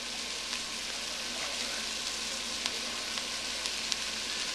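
Garlic is added to onion and meat frying in a stew pot, giving a continuous soft sizzle with a few faint crackles and stirring clicks.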